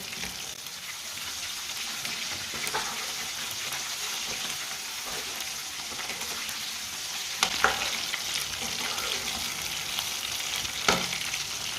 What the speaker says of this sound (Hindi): अब इसी तरह फ्राई कर लेंगे, उल्टाते पलटाते ना दोनों साइडों से